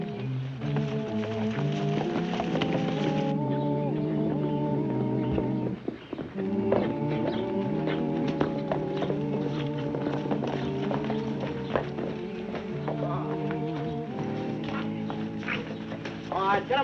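Horses' hooves clip-clop steadily at a walking pace in an Old West setting, heard under a continuous bed of orchestral music throughout.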